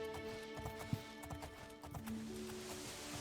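Horse hooves clip-clop at a steady trotting rhythm in The Elder Scrolls IV: Oblivion, with an armored horse carrying its rider over a continuous game ambience and a faint musical drone.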